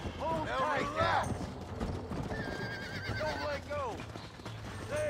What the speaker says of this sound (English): Use your lasso to capture a wild horse.